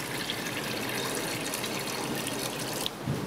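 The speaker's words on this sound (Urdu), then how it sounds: "ایک مٹی کی ہانڈی لیں، اس میں 1 گلاس پانی ایڈ کر دیں۔" A glass of water is poured into a clay cooking pot during home cooking. The pour is a steady, close splashing gush that runs without a break, ending with a small clunk.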